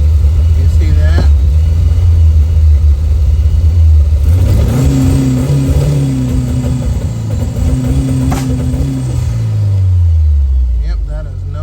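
A car engine, suffering a fault that makes its RPM fluctuate erratically, revs up as the gas is pressed, climbing and wavering unevenly before dropping back, loud and close, with someone speaking over it.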